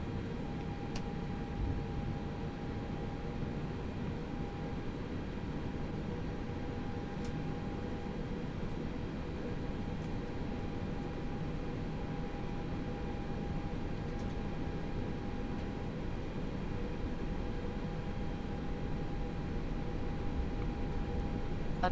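An Airbus A320 in the X-Plane 11 flight simulator taking off from runway 16 right at Eugene: a constant, steady engine drone with a faint high whine, unchanging in loudness and with no voices.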